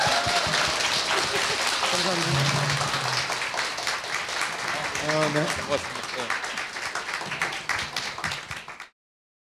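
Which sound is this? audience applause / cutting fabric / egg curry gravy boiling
audience applause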